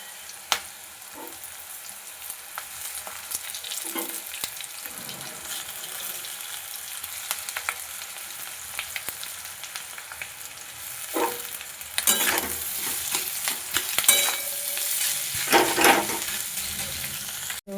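Boiled potatoes stir-fried in a pan give a soft, continuous sizzle and frying hiss, broken by scraping stirs that come in louder bursts near the end, close and without talk.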